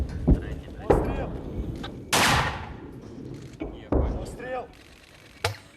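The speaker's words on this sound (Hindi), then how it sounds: "उन्हें जैसे ही दुश्मन की पोजीशन का पता चलता है, वो मोर्टार से फायर कर देते हैं।" Ukrainian soldiers fire a mortar in the field, several loud, sharp blasts spaced out across the stretch with rumbling decay after each, one bigger boom in the middle, and some voices in between.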